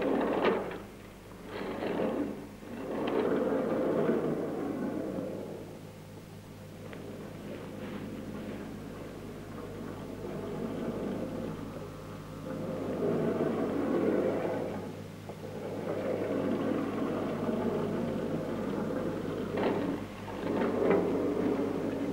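Linear motor vehicle with virtually no moving parts accelerating along its rail, a low rumbling whir with steady humming that swells and eases over about twenty seconds, moderately close, with no talk over it.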